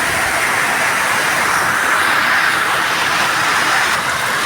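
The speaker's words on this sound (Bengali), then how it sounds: "রাস্তার ধারে গাড়ি যাচ্ছে" Cars pass along a roadside in heavy rain, making a loud, dense, continuous wash of tyre hiss and downpour with no pauses.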